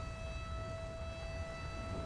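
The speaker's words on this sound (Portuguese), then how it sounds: "E essa sirene de novo?" A steady wailing siren in the GTA 5 video game during a natural disaster scene with meteors, heard as a continuous sustained tone held evenly throughout without speech.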